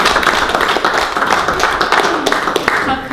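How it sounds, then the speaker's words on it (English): Audience applauding with a steady patter of many hands clapping, close and lively, continuing for a few seconds before a speaker addresses them. "How kind and generous of you to applaud for me before I've done anything."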